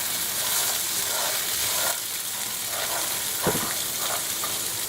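Black chickpeas fry in olive oil in a pan with a steady, close sizzle, while a spoon stirs them with a short scrape near the middle; no one speaks.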